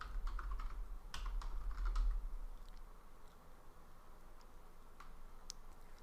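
Quiet, quick keystrokes on a computer keyboard as an SSH command is entered, a burst of close clicks up front that thins to sparse taps.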